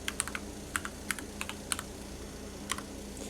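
Fingers tapping out numbers on a calculator keypad, a quick run of crisp, light clicks in small irregular bursts, close and clear with no talking.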